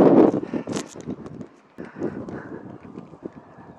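Gusty breeze buffets the microphone outdoors on a golf course on a cool Wisconsin day, rumbling in uneven surges that ease off midway and then pick up again.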